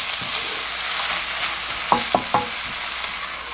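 Onions stir-fried in a pan for onion jam give a steady, close sizzling hiss, with a few sharp spatula scrapes clustered midway; no one speaks.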